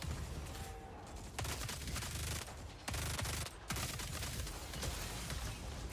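A powerful short-range video game gun with heavy recoil fires: several heavy, booming shots land at irregular intervals over a constant noisy roar, each one jumping sharply in loudness.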